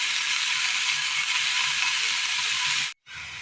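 Brinjal pieces frying lightly in a pan give a steady, loud sizzling hiss that holds evenly, then cuts out briefly near the end before resuming.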